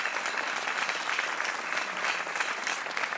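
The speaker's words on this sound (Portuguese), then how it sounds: "Para já um aplauso para o António Leite Castro" Studio audience applause on the Portuguese game show Joker, a sustained, moderately loud patter of many clapping hands with a slightly pulsing texture and no talk over it.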